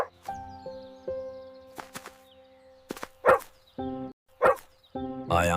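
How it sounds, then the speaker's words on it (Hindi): A large stray dog bursting out of park bushes barks several times in sharp, loud bursts at uneven intervals, heard over sustained musical tones. "अचानक पार्क की झाड़ियों से एक बड़ा आवारा कुत्ता निकला।"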